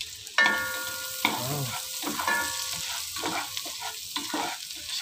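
Chopped onions drop into a hot pan for a creamy carbonara, hitting with a sudden loud sizzle that settles into steady frying as they are stirred, and a voice gives a brief exclamation.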